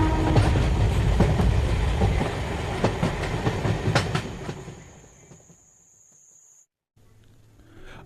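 A train rolls along the track with loud rhythmic clatter and sharp wheel clacks, a thin sustained high tone running above it, before the rumble fades away into near silence.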